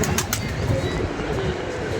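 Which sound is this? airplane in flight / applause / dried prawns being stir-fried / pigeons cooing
pigeons cooing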